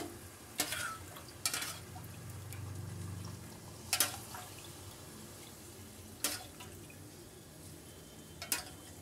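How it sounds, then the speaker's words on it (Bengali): Water goes into a pan of chicken bharta cooking in spiced oil, bringing soft sizzling and stirring, with several sharp clinks of a spoon against the pan spaced through the moment. "এবার আমি দিয়ে দেবো জল।"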